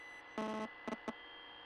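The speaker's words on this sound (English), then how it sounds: "Don't know, there's like a buzzing noise." A buzzing tone through headphones in a video game: one sustained harmonic buzz followed by two quick short bursts, faint against a steady hum.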